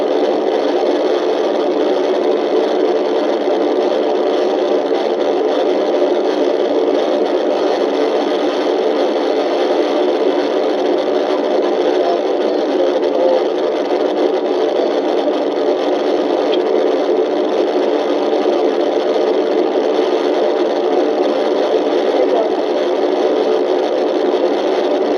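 A 5.7 Hemi V8 engine powering a car through a police chase, heard as a loud, steady, continuous roar with droning mechanical whir that holds throughout, without talk.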